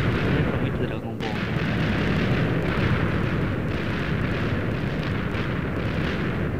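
TNT blocks detonating in Minecraft on a dark flat world produce a continuous barrage of heavy booming explosions, dense and loud, overlapping with little pause, while a player talks over them.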